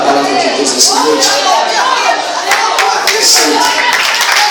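A church congregation applauds after an evangelist's sermon, dense rhythmic hand clapping mixed with voices and chatter throughout.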